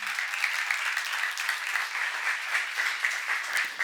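An audience applauds steadily at a church seminar, a dense, even wash of clapping that holds for several seconds without a break.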